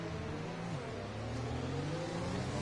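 Racing car engine in F1 2020 during a slipstream overtake at a race in Italy: a steady high-revving whine with rising pitch, continuous and fairly faint, with no talk over it.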